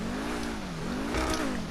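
Pegassi Zorusso supercar engine in GTA Online revving up and down in two smooth swells, a steady droning tone rising and falling, close and loud with no talk over it.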